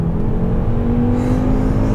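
Volvo S60R sport sedan accelerating hard, a loud, steady engine whir and road roar heard from inside the car, rising slightly in pitch.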